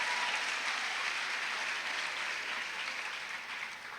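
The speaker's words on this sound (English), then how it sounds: "Give yourselves a big round of applause." Applause from an audience for graduating eighth-grade students at an academy ceremony, a continuous broad clatter of many hands that stays strong and then slowly tapers, with no voices over it.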